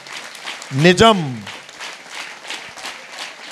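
An audience at a talk on human values claps steadily in the background while someone speaks loudly over the applause.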